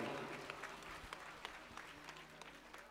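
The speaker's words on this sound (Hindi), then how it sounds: "एक बार जोरदार तालियां बजाकर स्वागत करें" Applause from an audience at a Ram Katha religious gathering in Bhopal, a steady wash of many hands clapping at moderate distance with scattered sharper claps, recorded fairly faint.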